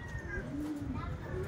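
Returning racing pigeons cooing at a loft, soft low coos heard faintly against background noise.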